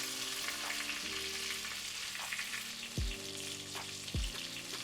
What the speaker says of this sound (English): In the same oil from the bacon, I'm gonna saute about 6 chiles gueros and some green onion